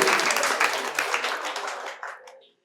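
Audience applause at a quiz competition held at Santiniketan Medical College and Hospital, a dense burst of clapping that carries on steadily for about two seconds and then fades away.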